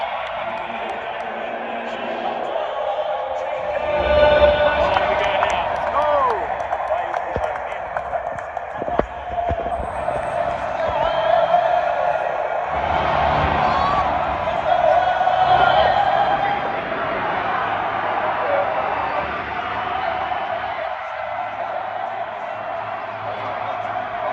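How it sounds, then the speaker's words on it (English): Stadium crowd at a Bulldogs vs Manly NRL rugby league match, a steady broad roar with swelling cheers and shouts around the middle and later, no talk over it. "I feel like you're better off listening to the crowd"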